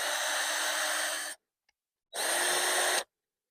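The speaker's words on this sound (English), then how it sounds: "So I'm going to go from the inside and drill these in." A power drill driving screws into oak barrel wood on a garden bed whirs steadily in two bursts separated by a short silence, the second burst briefer, close and loud with no talk.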